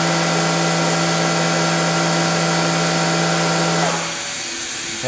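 A Brother CNC 830 machining center's spindle spins at a steady 10,000 RPM, a loud continuous whine with stable tones that drops in pitch and winds down near the end as the spindle stops; no one speaks.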